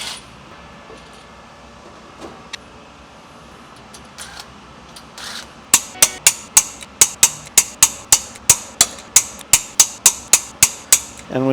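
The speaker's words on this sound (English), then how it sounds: "Should be able to use the drill to spin these out of there" After some quiet shuffling, a power drill rattles with a rapid, evenly spaced series of sharp clicks as it spins torque plate bolts loose from a V8 engine block, loud and close.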